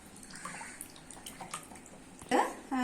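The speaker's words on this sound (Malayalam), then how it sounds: "ഇതിനൊരു മണത്തിന് വേണ്ടിയിട്ട് നമുക്ക് കമ്പോട്ട് ഒഴിച്ചു കൊടുക്കാം" Comfort fabric softener is poured into a container of water, giving a soft trickle under background talk and ending in brief splashy pours.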